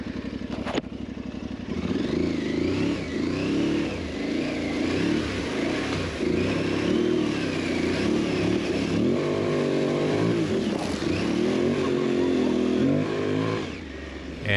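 Aprilia Tuareg 660 adventure motorcycle ridden through slippery mud, its engine revving up and down repeatedly at close range with throttle surges and wavering pitch, a sharp clatter near the start.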